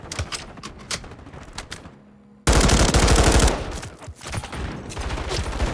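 Rapid gunfire in a Call of Duty game: sparse bursts at first, a brief lull, then a loud, dense automatic volley that continues in quick rattling bursts to the end.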